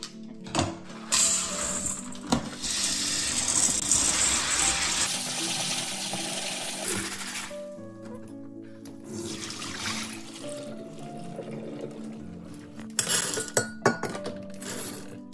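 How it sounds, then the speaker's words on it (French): Soybeans washed by hand in a pot of water for homemade miso: close sloshing and splashing with clinks of beans and metal, a running tap in stretches, and no talk. "Tout d'abord, on va commencer par laver le soja."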